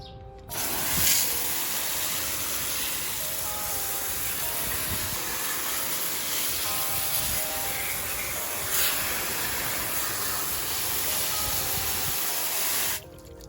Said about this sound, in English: I'm just going to use the hose.